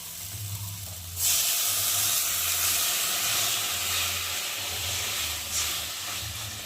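A hiss erupts suddenly as water is poured onto fried spices in a hot pan for rohu fish kalia. The loud, steady steam and sizzle holds for several seconds and swells again near the end, with a low hum underneath.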